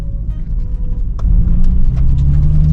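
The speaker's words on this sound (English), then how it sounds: "Downshift. Oh, sounds so good." Nissan 350Z engine rumbling through a downshift on a fall country road, a loud, close low drone that swells and holds steady, with tires crunching over pebbles on the rough surface.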